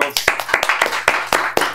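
A single person clapping alone during a podcast interview, about eight sharp, close, loud claps in a slightly uneven rhythm with nothing else beneath.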